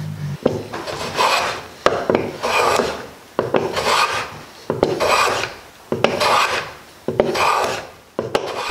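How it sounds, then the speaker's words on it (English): A plane shaves a live-edge maple slab countertop in long, loud rasping strokes, about six close passes with brief pauses between them and no talking. "Planing will push the wood a tiny bit into the gaps"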